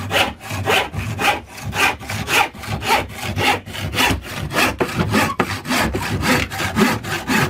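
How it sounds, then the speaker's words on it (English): A handsaw cuts through bamboo in quick, steady back-and-forth strokes, each rasping pass close and clear, with no talking. "Now watch your fingers when you're cutting with a handsaw."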